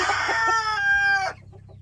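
A Leghorn-Legbar cross rooster crows loudly close by, a single drawn-out call after a few short clucks, then it cuts off into quiet coop ambience.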